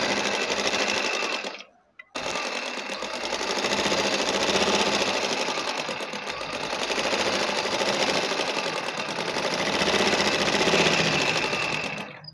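A sewing machine runs steadily as it stitches lines across a frock's chest design, a close, fast, even whirring and clatter that pauses briefly once near the start and then continues without a break.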